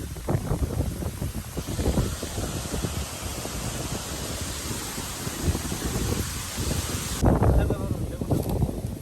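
Strong wind over an open wetland roars and buffets the microphone throughout, with voices talking underneath and a louder gust near the end.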